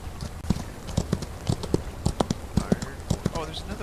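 Rhythmic horse hooves in the video game Outlaws of the Old West clip-clop steadily in a quick gait, with someone talking over them.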